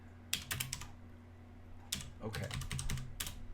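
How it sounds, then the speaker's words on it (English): Bursts of rapid clicky keystrokes on a computer keyboard come close and clear, separated by short gaps while ARM assembly code is written; a voice briefly speaks once. "I really should stop typing when I'm trying to explain something."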